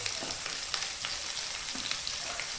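Two medium onions, sliced lengthwise, fry for a chicken curry with ground coconut, giving a dense, steady close sizzle with small scraping stir sounds throughout.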